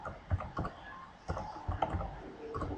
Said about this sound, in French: vous validez sur la touche entrée du clavier